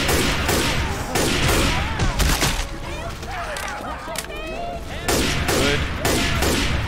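Rapid automatic gunfire aimed at the Tank in the zombie shooter game Left 4 Dead 2, dense sustained bursts with brief pauses, loud and close, mixed with in-game voices and a player speaking.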